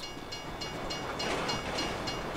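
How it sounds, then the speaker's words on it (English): A train rolls past in Grand Theft Auto V, a steady broad rumble with faint rhythmic clacking of wheels, moderately loud and continuous with no talk. "You'd know the train comes by right now."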